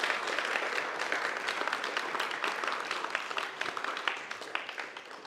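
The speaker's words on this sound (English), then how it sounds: "Let's give all of our panelists one big round of applause." An audience gives a round of applause to panelists at a history talk on nineteenth-century Chinese pioneers, a steady crackle of many hands clapping at moderate distance that gradually thins out.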